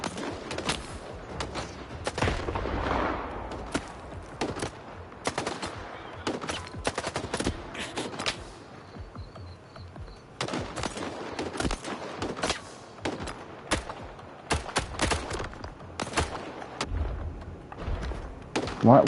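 Repeated bursts of gunfire in S.T.A.L.K.E.R. 2: Heart of Chornobyl on PS5, sharp close shots and short volleys spread irregularly over the stretch with brief quiet gaps and occasional thuds.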